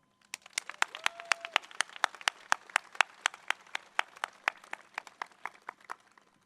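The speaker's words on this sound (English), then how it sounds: "How about a round of applause?" Sparse audience applause at a high school graduation ceremony for the class of 2022: a few people clapping in a loose, distinct rhythm, individual claps crisp and fairly quiet against a low hum, with a brief tone partway through.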